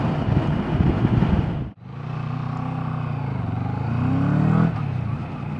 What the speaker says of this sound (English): Nice sort of pokey pickup. What you want for a scrambler type bike.